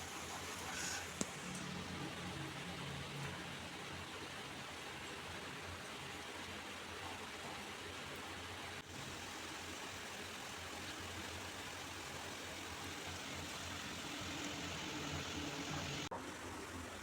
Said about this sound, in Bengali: তেলটা গরম হয়ে গেছে, এবার আস্তে আস্তে বড়া ছেড়ে দেব।